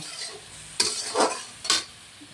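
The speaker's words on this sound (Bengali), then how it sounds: "এবার আঁচ কমিয়ে বন্ধুরা আবার দুই মিনিটের মতো কষিয়ে নেব" Potatoes and yardlong beans stir-fried in a pan over low heat, heard as two or three brisk spatula scrapes and sizzling bursts against a quiet background, with no voices.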